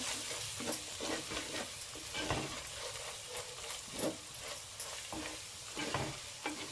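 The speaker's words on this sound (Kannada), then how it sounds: "ಹಾಗೆ ರೆಡ್ ಚಿಲ್ಲಿ ಪೌಡರ್ ಚೆನ್ನಾಗಿ ಮಿಕ್ಸ್ ಮಾಡ್ಕೋಬೇಕು" Red chili powder is stirred into egg curry masala in a pan, giving repeated scraping stir strokes over a steady, close sizzle of frying, with no talking.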